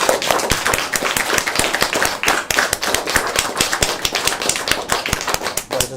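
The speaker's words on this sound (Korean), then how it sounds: "우리 하나님 아버지께 영광의 박수 돌려드리겠습니다." A church congregation at a Sunday service breaks into loud, brisk clapping, many hands striking in a dense, fast rhythm that holds steady throughout, close and with no voices over it.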